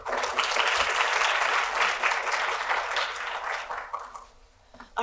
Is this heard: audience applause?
yes